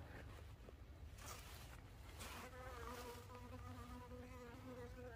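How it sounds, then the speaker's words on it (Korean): Honeybees buzz inside a hive after being fed warm water, a faint, continuous hum with shifting tones that holds steady throughout. "벌이 움직임이 조금 틀려집니다."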